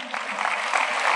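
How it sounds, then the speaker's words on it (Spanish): A congregation claps together during a Sunday school service in a cathedral, a brief, even wash of applause heard from a moderate distance. "Aplauso a Dios"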